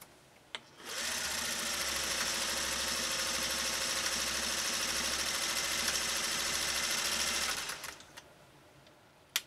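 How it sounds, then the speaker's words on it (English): A 1956 Singer 401A sewing machine running steadily for about seven seconds while stitching a built-in pattern, a close, even mechanical whir with a low rhythmic pulse, bracketed by a few clicks as it starts and stops. "And now we'll sew that next primary pattern"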